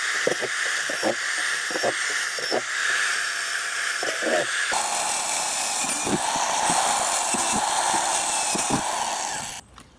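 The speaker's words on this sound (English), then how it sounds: "You do want to drill these holes around the entire container." Power drill boring ventilation holes around a plastic nest box container, a sustained hissing whir broken by scattered clicks and bursts, shifting in tone partway through and cutting off near the end.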